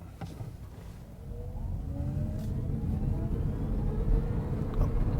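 An ORA Good Cat GT electric car pulls away hard from a standstill, its low road and motor rumble swelling steadily while a thin rising whine climbs in pitch from inside the cabin.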